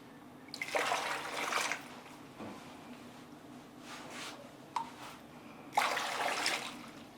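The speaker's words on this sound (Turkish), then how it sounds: "dibindeki duru suyunu alıp işte kabakların üzerine öyle dökeceğim." Clear limewater poured over pumpkin pieces for a Hatay-style pumpkin dessert, heard as several faint splashing pours separated by quieter gaps.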